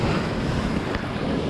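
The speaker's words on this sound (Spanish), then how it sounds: "miren cómo está entrando la agüita por ahí" Ocean water surging in at La Zanja beach in Fajardo, Puerto Rico, a loud continuous rush of surf mixed with heavy wind buffeting the microphone.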